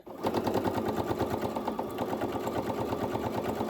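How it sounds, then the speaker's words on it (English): A sewing machine stitching a seam down a cover with pockets, a steady rapid mechanical chatter running close and continuous after a brief start, with no talk. "Sew it all the way down and back stitch at the bottom."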